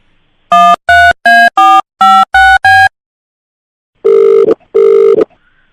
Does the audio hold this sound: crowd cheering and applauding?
no